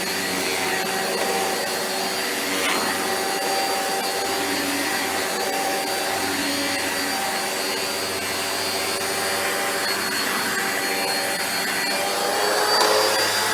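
A Rainbow D3c vacuum cleaner runs at close range on a rug with the carpet selector set low, a loud, steady whine with no talking.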